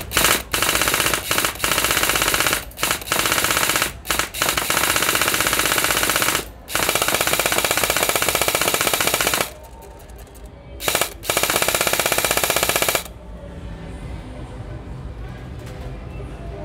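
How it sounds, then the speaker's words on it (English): Rapid-fire gunshots crack at a shooting range in Phuket, Thailand, dense loud bursts with brief pauses before stopping near the end, then quieter room noise. "I'm shooting at the 7, it's going down to the bloody 6, so let's zero in and then rapid fire."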